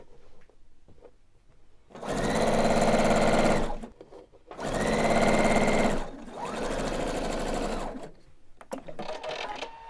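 A sewing machine stitches over an overlock seam on fabric belt loops in three sustained bursts of rapid needle chatter, loud and close, with short pauses between runs.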